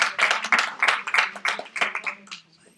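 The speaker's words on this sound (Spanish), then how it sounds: "Yo creo que esto merece un aplauso" An indoor audience claps together at a lecture, a short burst of applause that is close and fairly loud, then fades out within about three seconds.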